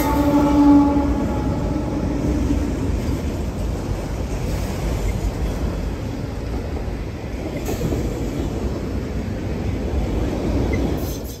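A CSX freight train of autoracks rolls past close by, a steady loud rumble of wheels and cars throughout, with a horn blast near the start, no talking.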